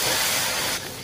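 Squid and prawns sizzle in oil in a wok on maximum heat for Indonesian fried rice, a loud, steady, close hiss that eases off slightly near the end.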